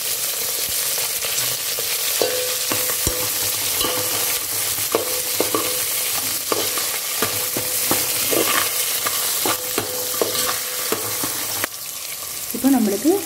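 Onions, curry leaves and green chillies sizzling in hot oil for a mixed-vegetable sambar, a constant close frying hiss broken by repeated scrapes and clinks of a spoon stirring the pan, no voices.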